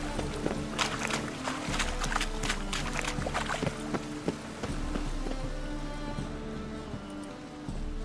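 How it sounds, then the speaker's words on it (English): Rain falls in The Witcher 3, a steady hiss of drops with scattered sharper taps and splashes, moderately faint and continuous throughout with no voices. "And it's raining again."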